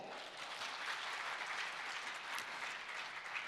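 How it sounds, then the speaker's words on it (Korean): Audience applause at the close of a keynote lecture at a 2024 power-generation technology conference, a steady wash of many hands clapping throughout, fairly distant and even, with no voices. "다시 한번 발표에 수고해 주신 박종배 교수님께 뜨거운 박수 보내주시죠"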